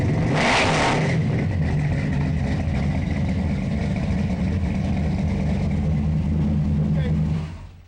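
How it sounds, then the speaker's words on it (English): A car engine, a race car from a racing shop, revs up in a loud burst near the start, then settles into a steady deep rumble that holds close and loud before cutting off at the end. "Give me another rev, Ron."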